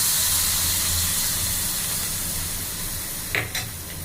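Tempering of asafoetida and green curry leaves in hot oil, added to a buttermilk kuzhambu, giving a steady loud hiss and sizzle throughout with a couple of sharp crackling pops near the end.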